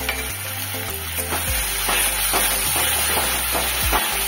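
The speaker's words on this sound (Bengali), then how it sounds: "এরপরে অনবরত নাড়তে হবে যাতে মশলা থেকে তেলটা বেরিয়ে আসে।" Spice paste for a rohu fish curry fries in hot oil while a spoon stirs it constantly, giving a loud close sizzle with rhythmic scraping strokes and no talking.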